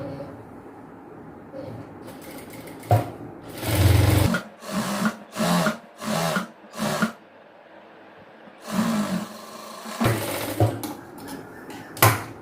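A sewing machine stitches a gathered chudidhar pant in a tailoring lesson, running in several short bursts of even whirring with brief pauses between, loud and close, with a longer run toward the end.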